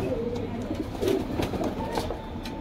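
Pigeons coo softly and repeatedly in a pigeon sale setting, low throaty calls over a steady background hum, close by with no talk.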